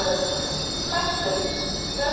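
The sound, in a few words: LNER Azuma train 801-221 departing York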